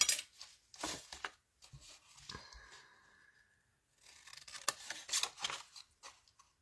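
Scissors snip through paper tabs on decorative paper while making boxes, a series of close, crisp cuts in short bursts with brief pauses between.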